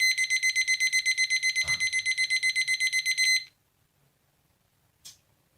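An electronic alarm sounds in a rapid string of loud, evenly pulsed beeps for about three seconds and then cuts off, leaving near silence with one brief faint tick.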